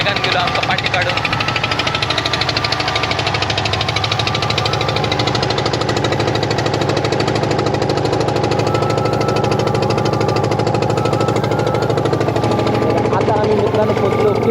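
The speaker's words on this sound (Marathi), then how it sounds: "एका आउटबोर्ड मशीन आहे त्याच्यामुळे इतक्या वेगाने गेलो आमचा पाठी काढून" An outboard motor drives a small fishing boat fast across the sea, a loud, steady, rapidly pulsing engine drone that runs continuously throughout.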